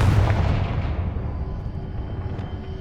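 A Confringo explosion spell fired in the video game Hogwarts Legacy, giving a loud, deep booming blast at the start that rolls away into a rumbling decay over a few seconds.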